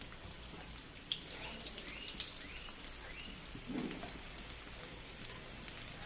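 Fish frying in oil in a pan for a Bengali fish bhuna: a soft, steady crackle with scattered small pops and spits, fairly quiet and close.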